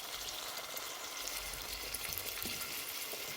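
Onion fries in palm oil in a pan with a soft, continuous sizzle and bubbling, faint and close, with light stirring and no talk.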